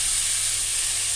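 Onions and green chillies sizzle and fry in a pan on top of half-cooked fish curry, a steady close hiss with no voices.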